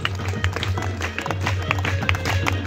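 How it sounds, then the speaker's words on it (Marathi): Audience clapping at a school World Forest Day event held with the social forestry department in Navapur, a dense steady patter of many hands lasting throughout at moderate volume. "टाळ्या वाजवायच्या सर्वांनी."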